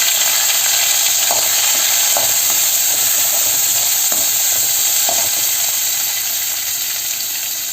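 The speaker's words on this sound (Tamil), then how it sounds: "வெங்காயம் நல்லா வதங்கிடுச்சு." Onions sauté for masala kuzhambu in a pan, a loud, even hissing sizzle that runs throughout, with faint stirring scrapes now and then and no voices.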